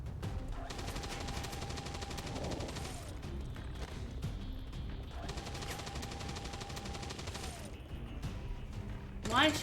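Sustained gunfire in a co-op Commander game match, steady bursts and shots running throughout under game effects and music, with voices talking over it.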